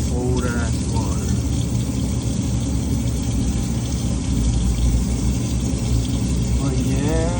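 Tap water runs steadily into a sink in a truck repair shop while hands are washed, a constant loud splashing hiss with a few brief squeaks over it.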